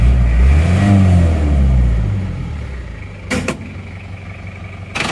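Isuzu Panther diesel engine running after a cylinder liner repair, a loud close rumble that eases slightly partway through, with a brief sharp clatter near the end.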